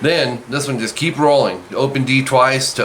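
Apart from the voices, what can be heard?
No everyday noise stands out behind the speech.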